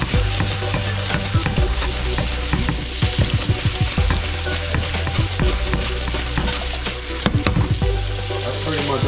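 Duck meat frying in a pan, a steady close sizzle with repeated scraping and stirring strokes as the pieces are turned, continuous throughout with no talk.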